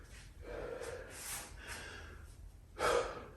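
Heavy breathing during a full-body workout, several loud breaths and gasping exhales close to the microphone, the last one sharp and forceful.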